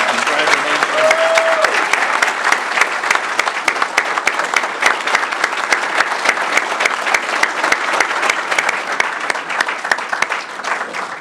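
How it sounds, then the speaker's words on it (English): Steady, dense applause from a crowd at a bank branch ribbon-cutting ceremony, loud and sustained for about eleven seconds with no pauses, a brief tonal whistle near the start. "Give them a big round of applause and congratulations."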